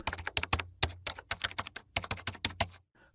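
Keys tapped on a computer keyboard while entering a login ID, a quick irregular run of close, crisp clicks with short pauses, ending in a brief softer sound.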